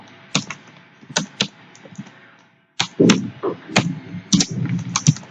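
Keys clack in irregular bursts on a computer keyboard while JavaScript code is typed, close and fairly quiet, with a brief pause before a denser run of taps.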